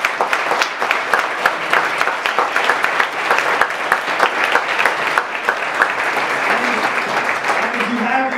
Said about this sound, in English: give a nice round of applause for our panel